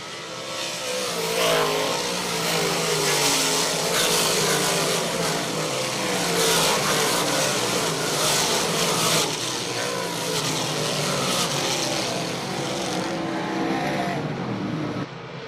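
Pepsi Big Block Modified race cars roar down the back straightaway of a dirt track, a loud, continuous snarl of several engines at high revs that holds for the whole stretch.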